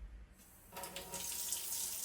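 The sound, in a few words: water running from an opened kitchen tap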